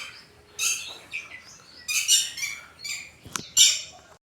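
A chukar partridge perched on a wall gives several sharp chirping calls in uneven bursts, close and clear in a quiet outdoor setting, with a brief rustle near the end.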